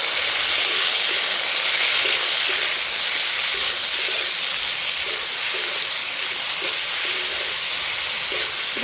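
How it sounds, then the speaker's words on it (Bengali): Chili paste and ground cumin frying in a pan, giving a steady, dense hiss of sizzling oil that runs continuously at close range with no talk over it. "এগুলোকে ভেজে নেব।"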